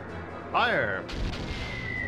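A heavy cannon blast from an airship battle in the video game Skies of Arcadia Legends erupts abruptly and loud, following a short shouted voice, then leaves a rumbling wash and a thin lingering tone.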